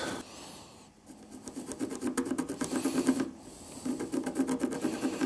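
A router cuts a long groove into a wooden drum shell beside a pencil mark, a steady rasping, buzzing grind close up. It pauses briefly, then runs again twice, with no talk.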